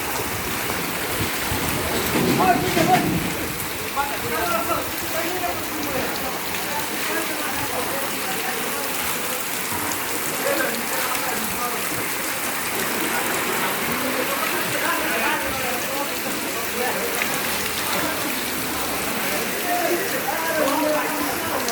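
Heavy rain pours steadily onto a flooded street in Dhaka, a dense continuous wash of splashing water that holds at an even, loud level throughout with no voices standing out.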